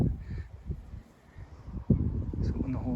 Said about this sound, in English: Carrion crow practicing over there.